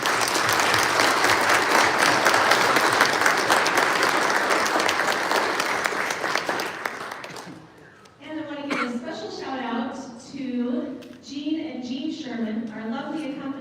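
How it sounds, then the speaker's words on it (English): An audience at a 25th anniversary concert gives a big round of applause for the donors, dense sustained clapping for several seconds before it fades and a single voice begins speaking. "So can we have a big round of applause for all of our donors?"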